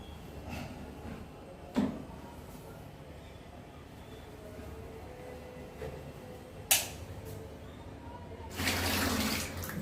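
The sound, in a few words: running water for a bath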